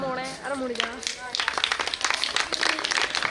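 Audience clapping at a devotional jagran, with scattered hand claps that build into steady applause following a man's speech.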